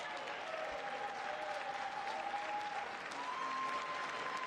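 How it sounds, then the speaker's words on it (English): A political audience applauds as lawmakers stand, a sustained, dense wash of clapping heard at a distance. A faint tone or voice runs briefly underneath. "Now the Democrats are standing up, They clapping."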